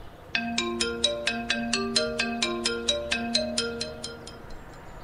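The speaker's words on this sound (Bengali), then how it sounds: "পাশে রাখা ফোনটি বেজে উঠল।" A mobile phone rings with a repeating electronic melody of bright, evenly spaced tones that play clearly and steadily for several seconds against a quiet background.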